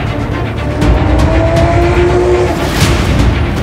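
GT race cars, a BMW, an Audi and a Lamborghini, roar past on a racing circuit in a loud, continuous engine rumble with a rising and falling engine whine.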